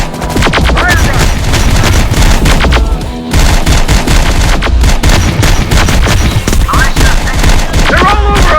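Rocket launches and dense gunfire in the Terminator Dark Fate Defiance video game, with loud continuous bursts of automatic fire, sharp shots and heavy booms filling the whole stretch, pausing only briefly midway.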